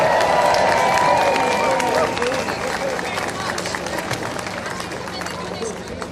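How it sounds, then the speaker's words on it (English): A large audience cheers and applauds for Heather Anderson, loud sustained clapping and crowd noise that gradually thins out. "can you have a big cheer please for Heather Anderson?"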